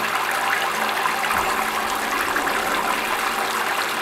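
Water rushes steadily out of a boiler being purged of scale, a constant loud broadband gush with no pauses, close by.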